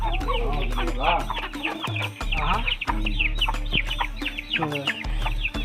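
Chickens cluck repeatedly nearby, overlapping calls in an uneven rhythm over a low constant hum.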